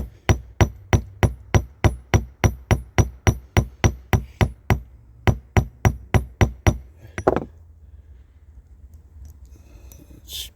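Hammer peening a rivet on a chainsaw chain by hand: a steady run of about twenty-five sharp metallic taps, evenly paced and close, stopping after seven seconds and leaving quiet room noise.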